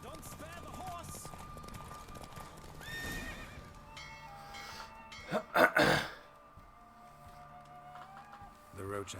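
Horse hooves clip-clop at a fast gallop with a whinny during a race in The Witcher 3: Wild Hunt, alongside game music and a brief burst of noise, with some speech in the background.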